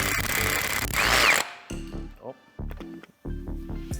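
An impact wrench hammers a crank pulley onto an engine during a BMW LS swap build, a loud dense rattling burst for about a second and a half, then short intermittent mechanical whirs and clicks with quieter gaps.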